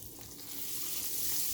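Eggplant slices sizzling in hot oil heated to roughly 350 to 375 degrees for keto eggplant parmesan, a dense hiss of frying that swells slightly louder over a brief moment, close and with no voices.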